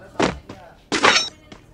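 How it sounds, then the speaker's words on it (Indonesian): Sharp, punchy bursts of gunfire in the video game Free Fire during an esports tournament, two loud cracks followed by smaller thumps, with faint commentator chatter in the background. "sudah ada suara tembakan-tembakan di sini"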